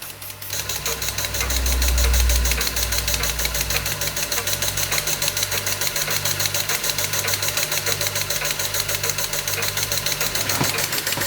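A Czechoslovakian Ites model steam engine runs on low gas, ticking in a fast, even mechanical rhythm that holds steady throughout, close and fairly loud with a brief low swell near the start.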